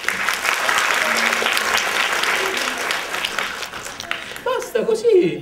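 Audience applause at a theatre show with a juggling act, broad steady clapping from a crowd filling most of the moment, fading out as a performer's voice comes in at the end.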